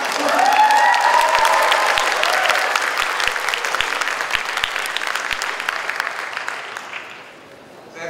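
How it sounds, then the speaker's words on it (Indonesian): A crowd at the Congress of Indonesian Diaspora claps steadily, loud at first and then gradually tapering off, with a few faint cheers mixed in at the start. "Tepuk tangan semuanya."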